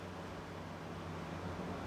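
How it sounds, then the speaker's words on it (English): Constant rushing roar of ocean waves breaking near a Southern California beach campsite, a steady unbroken wash with no voices. "if you don't like the sound of the ocean or the waves, you better not come here"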